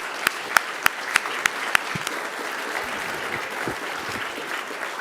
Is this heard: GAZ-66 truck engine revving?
no